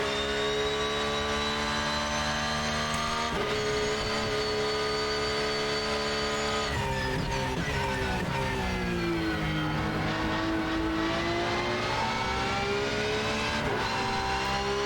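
A race car in the racing game RENNSPORT screams through its gears with rising engine whines, gear-change drops and deceleration around a corner, loud and continuous without speech.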